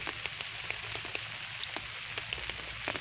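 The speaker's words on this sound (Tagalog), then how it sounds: "ini-enjoy ko lang muna yung ulan para sa mga pananim ko" Rain falls on a vegetable garden as a steady, soft patter with scattered sharper drops tapping close by throughout. No voices.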